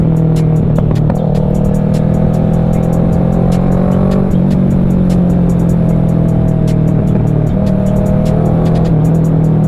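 A Kawasaki Ninja 650 sport motorcycle engine runs loud and close with a continuous droning roar whose pitch rises and falls through several revs, with no talking.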